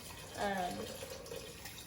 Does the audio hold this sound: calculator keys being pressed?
no